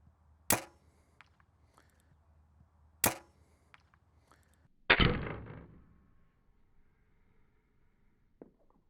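Three sharp bow releases spaced a few seconds apart during tuning practice, followed by a louder, longer impact of an arrow striking a target; close, crisp and isolated with quiet between shots.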